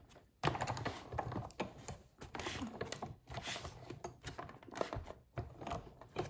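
Paper sandwich fed through a cut and emboss machine for card making, a continuous rattling, grinding mechanical whir with crackly bursts and brief pauses, close and fairly loud, no talking.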